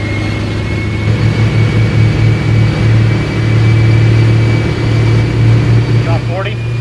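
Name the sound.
Honda S2000 with V8 engine accelerating on test run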